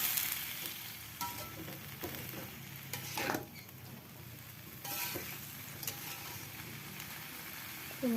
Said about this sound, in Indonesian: Aduk kembali.